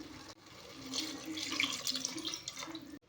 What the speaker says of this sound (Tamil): இப்போ நம்ம இதில் தண்ணியை ஆட் பண்ணிடலாம்.